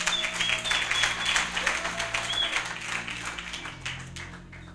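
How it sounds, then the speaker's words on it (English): A church congregation claps for a woman as she comes forward during a sermon, the steady clapping of many hands carried over sustained musical tones, gradually tapering off. "Let us clap for her as she comes"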